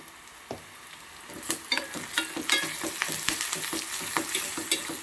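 Onions frying in a pan with turmeric and salt, a steady hissing sizzle with scattered crackles and spoon-stirring clicks, close and alone.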